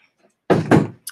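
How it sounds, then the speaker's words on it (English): A door swings shut indoors with two quick heavy thunks close together, then a small rattle right after, against an otherwise quiet room. "And then close the door, please."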